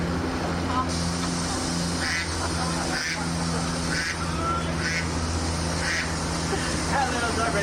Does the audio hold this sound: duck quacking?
yes